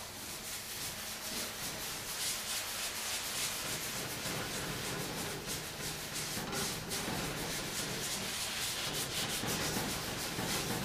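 A car body panel is sanded by hand with 180 grit sandpaper on a block to smooth out a scratch, giving a continuous rhythmic scratchy rubbing, close and fairly quiet, with no talk.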